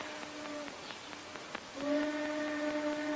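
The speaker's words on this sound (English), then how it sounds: "Train whistle." A steam train whistle sounds in two sustained blasts, a short one and then a longer steady tone, at moderate distance over faint background hiss.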